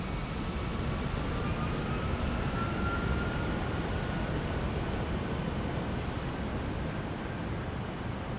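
A FedEx Boeing 757 at San Diego airport makes a steady, loud broadband jet roar that holds evenly throughout, with faint whining tones drifting through it.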